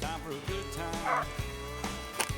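A rabbit-hunting dog barks and yips excitedly several times, close by, with whimpering tones mixed in against a busy outdoor background.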